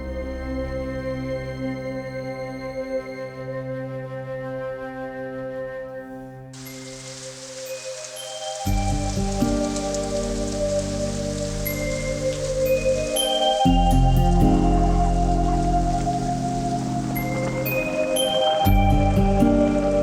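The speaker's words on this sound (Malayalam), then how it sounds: "സുഭദ്രേച്ചി എന്തൊരു മഴ" Heavy rain pours down in a Malayalam horror film scene, a loud, steady broadband hiss that starts a few seconds in and keeps going under a low, droning musical score, with no voices.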